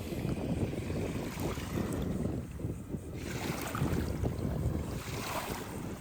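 Ocean waves wash steadily onto Lighthouse Beach on Sanibel Island in a continuous rushing hiss, with wind buffeting the microphone throughout.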